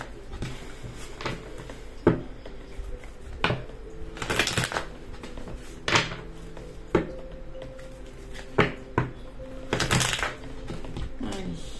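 Oracle cards are shuffled by hand during a card reading: a series of separate soft riffling and slapping bursts at irregular intervals, close by and moderately loud.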